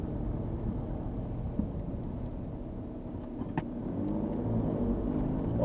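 A car driving slowly through the village centre of Markt Großlangheim in Landkreis Kitzingen in December, with a steady low engine hum and road rumble from inside the vehicle, fairly quiet and unbroken, no talking.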